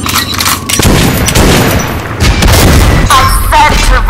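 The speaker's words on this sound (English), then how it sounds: "Give us some cover fire." Sustained rapid bursts of covering gunfire and booming blasts fill a combat scene, loud and dense throughout, with a brief shouted voice near the end.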